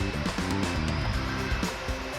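Air blows steadily from the dual automatic climate control of a Kia Carnival diesel nine-seat Noblesse minivan, a continuous breathy rush heard up close inside the cabin.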